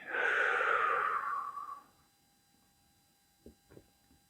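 A single calm, audible breath during guided meditation practice, a long soft airy exhale lasting about two seconds, followed by quiet and a couple of faint small sounds.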